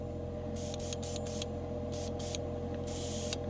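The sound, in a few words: airbrush spraying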